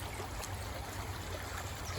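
Water channeled along a small line down to a gold panning sluice runs in a continuous soft trickling, gurgling flow, steady and fairly faint outdoors with a low rumble beneath, no one talking.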